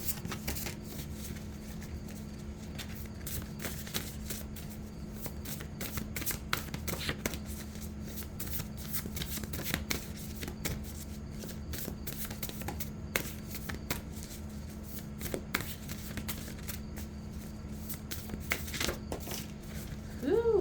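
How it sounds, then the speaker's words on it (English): Oracle cards from a Box of Emotions deck being shuffled by hand, a steady run of soft riffling flicks and papery slaps repeating close by for the whole stretch over a faint low hum. "I'm going to pull a Box of Emotions card, or a card of emotion."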